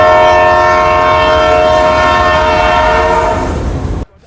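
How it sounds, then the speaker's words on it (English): A loud, sustained train horn blares close by over rumbling rail noise as a train arrives at a station in Nigeria, then cuts off abruptly near the end. "Finally, our train arrived."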